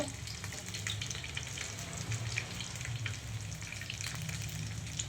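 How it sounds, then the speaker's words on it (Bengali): Oil heating in a hot kadai, a soft continuous sizzle and crackle, fairly quiet and steady, with no talking. "তেলও দিলাম, তেলটা গরম হচ্ছে"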